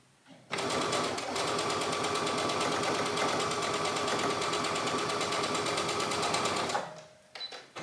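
A sewing machine stitches dress pieces for a ragamuffin-style dress in one long continuous run, a fast, even mechanical whirring rattle that starts and stops cleanly, loud and alone.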